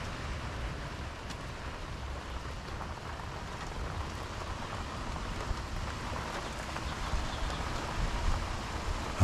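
Monsoon rain falls steadily as an even, close hiss of drops on surfaces, constant for the whole stretch with no voices.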